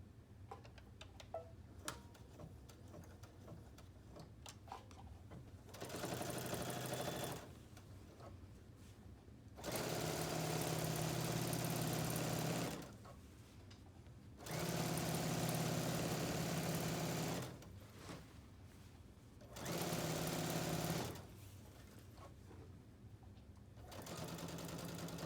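A sewing machine stitches binding onto a quilt in four separate runs of steady, close whirring, with quieter pauses between them where faint handling sounds come through.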